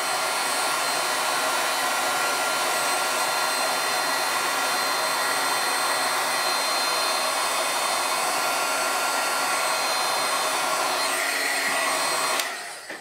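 Heat tool blowing hot air onto embossing powder on a dry-embossed card panel, a steady loud whooshing roar held for about twelve seconds before cutting off abruptly.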